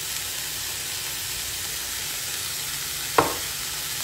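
Vegetables and chicken fry in a pan with a steady, even sizzle and hiss, broken near the end by one brief scrape of stirring; no voices.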